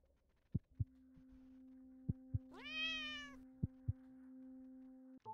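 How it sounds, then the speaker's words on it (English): A cat meows once in The Cat Lady video game, a rising, sliding mew over a steady electronic hum and a series of soft, evenly spaced heartbeat-like thumps. "Kitty cats."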